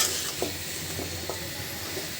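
Spices being stirred into bottle gourd in a hot pan for a Bengali taki fish curry, with a few soft scraping strokes over a steady close sizzle.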